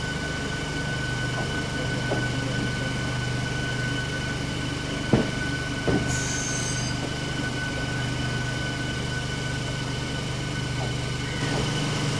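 A MEMU passenger train departing Kannur South runs steadily on rails, heard from inside as a constant low rumble and hum with a few faint clanks and a brief high squeal.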